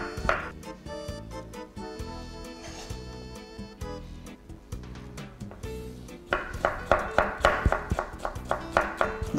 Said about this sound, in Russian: Мы нарезаем свеклу тоненькими ломтиками.